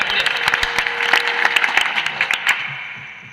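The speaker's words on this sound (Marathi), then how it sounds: "एक बार जोरदार टाळ्या होऊ द्या." Audience applause at a live comedy stage show, a dense burst of clapping that rings out loudly and then tapers off toward the end.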